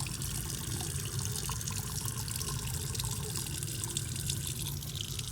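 Hands and wrists rinsed under a running tap at a sink, a steady close rush of water with light splashing that continues throughout without talk.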